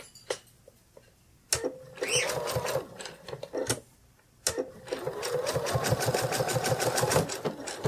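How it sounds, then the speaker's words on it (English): Sewing machine stitching plush toy foot pieces, starting and stopping in short bursts before running steadily in a fast, close mechanical chatter with light clicks and handling noises. "just place the pieces right side together and then sew around, leaving the top part open"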